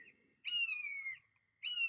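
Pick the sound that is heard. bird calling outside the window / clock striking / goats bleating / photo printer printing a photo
bird calling outside the window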